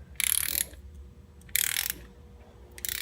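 A ratchet clicks in three short bursts, close and fairly quiet, while valve cover studs on a BMW S54 engine are snugged down with pauses between the strokes.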